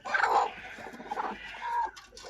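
Egg-laying hens clucking in a coop, with close, busy overlapping clucks and squawks filling the moment.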